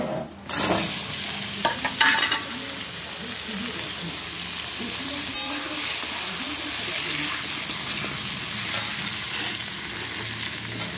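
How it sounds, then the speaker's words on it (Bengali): Potatoes tipped into a pan already holding fried fish and onion, a burst of hissing sizzle as they land, then stirring scrapes over a steady frying crackle, with faint talk in the background. "মাছটাও ভাজা হয়ে গেছে, পেঁয়াজটা ভাজা হয়ে গেছে, আলুগুলো দিয়ে দিচ্ছি।"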